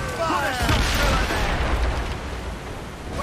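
A mortar shell strikes an enemy ship during a naval battle in Assassin's Creed Rogue, a heavy booming explosion followed by a rumbling, fading roar of debris and fire.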